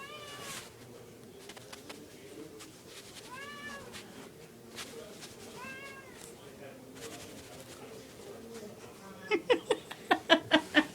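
A pet cat meows several times while playing with a cat toy, its calls rising and falling over steady background noise, with a voice talking nearby and sharper rhythmic sounds near the end.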